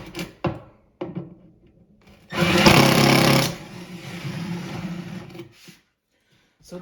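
A power drill bores a starter hole through a kitchen cabinet panel for a jigsaw, one loud whirring burst of about a second, with knocks and handling thuds before it and a lower mechanical hum after.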